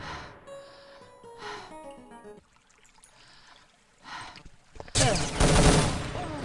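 A grenade blasts during a video game match, a sudden loud broad burst after quieter in-game music and effects, with a spoken voice faintly in the background.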